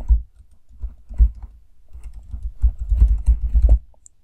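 A computer keyboard clatters as a contact name and email address are typed, with bursts of close, crisp keystrokes separated by short pauses and no talking.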